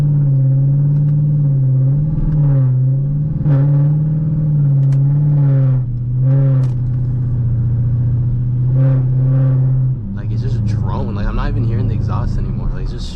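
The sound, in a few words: straight-piped 2013 Dodge Durango R/T exhaust drone inside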